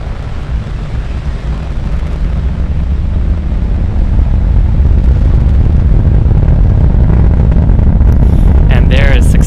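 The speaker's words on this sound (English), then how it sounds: "there is successful liftoff of Falcon 9 carrying our 18 resupply mission on a Dragon spacecraft to the International Space Station" A SpaceX Falcon 9 rocket lifting off with a Dragon cargo spacecraft, a deep continuous rumbling roar that stays loud and steady throughout, with some crackle and wind noise near the end.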